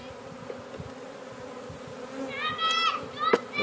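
Honey bees buzz around a Langstroth top-bar hive in Utah, a close, steady insect drone with a few brighter, louder passes toward the end.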